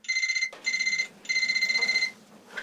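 A phone rings with an incoming call, three bursts of a bright trilling electronic tone separated by short gaps, loud and close with nothing else over it.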